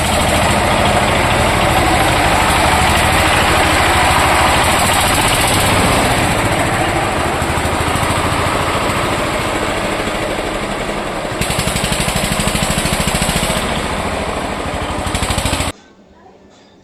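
A vehicle built by an engineering works engine shop pulls away for delivery, its engine running loud and steady with a rough, rattling idle that dips slightly before cutting off near the end.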